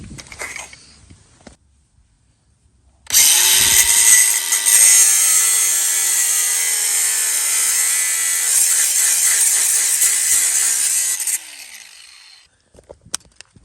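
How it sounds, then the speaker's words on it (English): An angle grinder fitted with a cutting blade slices through a bolt under a 1974-78 Ford Mustang II rear end, spinning up and then screaming steadily and loud for about eight seconds before winding down, with brief handling noises before and after. "We're gonna use this angle grinder with a blade on it, with a cutting blade,"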